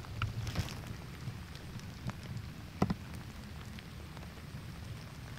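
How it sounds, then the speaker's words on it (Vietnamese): Light drizzle falling around a campsite, a steady soft patter of raindrops on surfaces with a few sharper drips standing out, fairly close and without talk. "Đây mưa đang râm râm nữa bạn."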